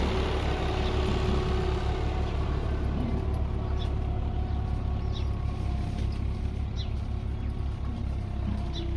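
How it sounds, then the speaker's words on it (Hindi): A tractor engine drones steadily while working sandy desert ground during chickpea sowing, a low continuous rumble at moderate distance, with faint chirps above it and no talking. "तो आप रेत के ऊपर चलता हुआ ट्रैक्टर और फिर हल, फिर ड्रिल, फिर चने की बुझाई, ये आप देख।"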